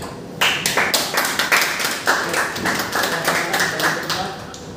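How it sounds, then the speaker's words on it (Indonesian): Students in a vocational CNC machining class clap for a student group after its presentation, a brief round of distinct, fairly loud claps with a small crowd's uneven rhythm and some voices underneath. "Beri tepuk tangan untuk kelompok B."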